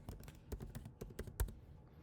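Someone types a word on a computer keyboard: a quick, uneven run of light keystrokes, close and fairly quiet, with no talking.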